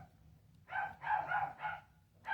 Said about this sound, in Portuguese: Tem uns cachorros latindo aqui